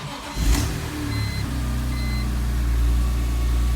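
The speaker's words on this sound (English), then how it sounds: "Now I'm just gonna fire it up for the first time with an exhaust on it" A BMW E46 M3 engine, just fitted with an exhaust, turns over and catches, then settles into a steady, rising hum as it revs up close by.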